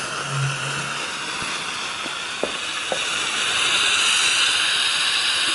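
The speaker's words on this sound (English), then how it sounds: "But you already hear that steam coming out." A Bissell 1806 steam mop on high power lets out a steady airy hiss of steam that swells louder toward the end, with a few small clicks and a faint hum early on.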